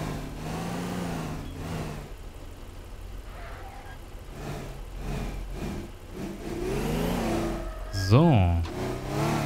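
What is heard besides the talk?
car engine driving in Teardown video game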